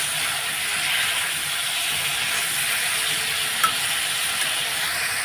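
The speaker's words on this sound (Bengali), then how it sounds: "এখন কাঁচকলা দিয়ে একটু নাড়াচাড়া করে তারপরে জল দিয়ে দেবো" Raw banana pieces are stirred into rohu fish curry with potato in a pan, a continuous close sizzle and hiss with faint scraping and a single small clink near the end, no voices.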